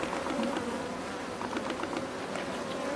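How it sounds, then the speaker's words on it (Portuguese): Honey bees at an apiary hum in a steady, close, continuous buzz that holds throughout, with many overlapping wings and no voices. "Olha como as abelhas estão gordinhas, brilhosas, ó."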